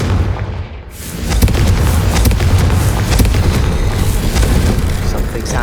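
Confringo explosion spell cast in the video game Hogwarts Legacy, a heavy booming blast swelling into a sustained roaring rumble, loud and close amid game combat noise.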